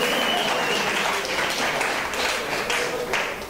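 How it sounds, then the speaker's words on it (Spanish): An audience bursts into steady, full applause, a thick continuous clatter of many hands that holds at even loudness for the whole few seconds. "Un aplauso ahí."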